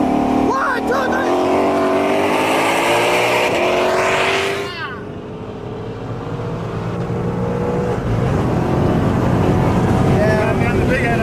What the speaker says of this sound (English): that dual clutch shifts like clockwork